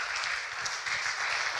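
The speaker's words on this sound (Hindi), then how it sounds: "क्यों ना हम तालियां से उसे स्वागत करें" Brief applause from a congregation welcoming a speaker at a Sunday Hindi church service, a dense wash of clapping at moderate distance, steady for a moment without talk.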